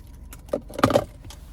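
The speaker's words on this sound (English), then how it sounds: "here's the key fob with that nice Buick logo on the lock button there" A 2024 Buick Encore GX Preferred key fob jangles in hand, a short cluster of light metallic clinks peaking midway, close and clear with no speech.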